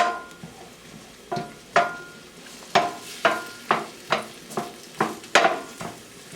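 Garlic and onions sauté in hot oil in a pan, a low sizzle beneath a run of repeated sharp utensil scrapes and taps against the pan, close and fairly loud, with no voices.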